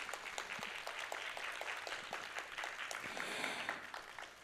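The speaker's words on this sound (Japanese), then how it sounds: "皆様改めて大き な拍手をお送りください" Sustained applause from the audience closing a human rights symposium in Tokyo, an even wash of many hands clapping, fairly distant and soft, with no talking over it.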